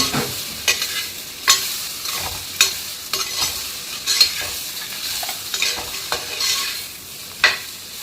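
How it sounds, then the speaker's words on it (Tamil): Tomatoes with cumin and fennel seeds sautéing in a pan: a steady oily sizzle with repeated scraping stirs and sharp utensil knocks against the pan every second or so, close and moderately loud. "அப்படியே தக்காளியும் போட்டு நல்லா வதக்கலாம்."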